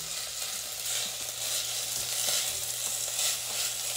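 Onion frying in a pan for a vegetable risotto, giving a steady, bright sizzle that holds at moderate volume for the whole stretch, with no voices over it.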